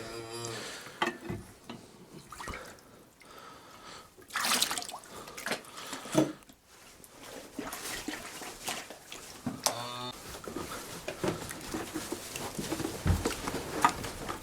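Water poured into a container while mixing calf milk replacer for feeding calves on a snowy farm, heard as splashing, pattering bursts close by that come and go over the clip, with no talk.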